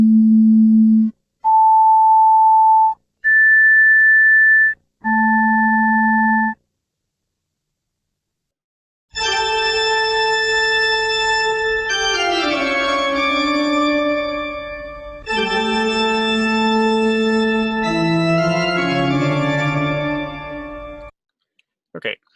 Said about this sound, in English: these 3 different tones, these 3 different pitches that are played